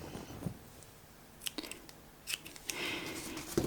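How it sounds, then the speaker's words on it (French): Scissors snip through crochet yarn after an amigurumi squirrel is finished, making a few quiet, crisp close-up clicks and cuts spaced apart in a hushed room. "On coupe un petit bout de fil."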